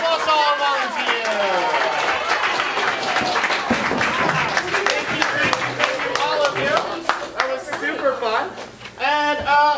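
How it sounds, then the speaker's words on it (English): A crowd at a family-friendly improv comedy show claps and cheers in a lively burst of applause, with voices mixed in throughout, rising again loudly near the end. "Give a round of applause to all volunteers!"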